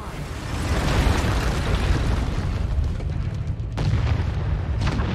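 Loud, sustained rumbling blast as a destroyed target explodes in the mech combat game Mechwarrior 5: Mercenaries, with a dense low roar that surges again near the end.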